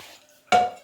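Water splashes into a thick steel pot in a home kitchen, a sudden loud burst that rushes on for a moment after a quiet start with faint clinks.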